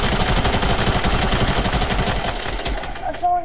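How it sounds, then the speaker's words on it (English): Rapid automatic gunfire in the video game Fortnite, a loud close burst of fast repeated shots that fades out after a couple of seconds, with a brief electronic game tone at the end. "Someone got shot"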